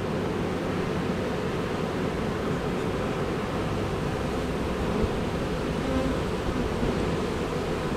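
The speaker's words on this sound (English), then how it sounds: "That is a big pile of bees." Dense, steady buzzing of a honeybee swarm, close and continuous, a thick droning hum that never lets up.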